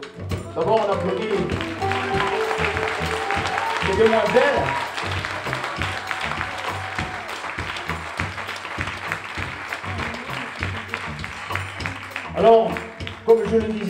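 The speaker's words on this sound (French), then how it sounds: "Alors, d'abord on applaudit" An audience applauds at a French stage presentation, the clapping steady and fairly loud for most of the stretch while someone talks over it and music-like tones drift beneath.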